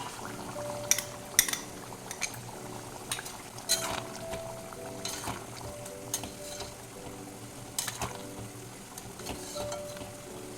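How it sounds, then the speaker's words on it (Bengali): Poppy seed and green chili paste going into boiled potatoes and leafy greens in a pan, with a gentle sizzle under scattered spoon scrapes and clinks against the metal, quiet and close. "এবারে আমি দিয়ে দেবো যে অর্ধেকটা পোস্ত আর কাঁচা লঙ্কা বাটা রেখে দিয়েছিলাম এটা দিয়ে দেবো"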